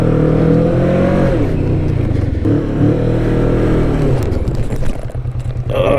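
A Kawasaki Vulcan S motorcycle is ridden with its engine droning loudly and rising and falling in pitch, mixed with wind rush and some rattling toward the end.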